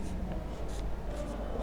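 Chalk or marker writing numbers on a classroom board during a maths lesson, a steady scratchy stroking sound close by with faint hum beneath and no talk.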